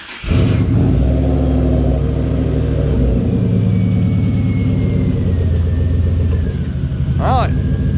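A Henry J car engine starts with a sharp burst and settles into a loud, steady low rumble as the car rolls out of a garage, running continuously throughout, with a brief voice near the end.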